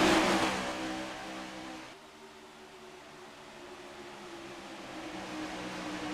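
Stock Toyota race cars in a racing video game on a road course, engines droning steadily at moderate volume, a loud burst at the start fading into a sustained hum with slowly shifting pitch.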